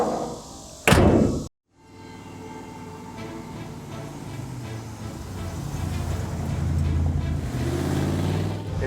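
A high-powered Mercury with a 4-speed setting off: a sharp door slam, then a steady engine rumble and road noise building as the old car pulls away.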